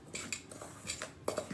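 A metal utensil stirring a crumbly toilet bomb mixture in a bowl, giving several light clinks and scrapes in quick, irregular bursts, close and fairly quiet.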